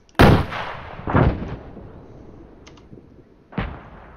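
Heavy vehicle-mounted gun firing in the military game Arma 3, three sharp booming shots spaced about a second or more apart, each with a short rumbling tail, close and loud.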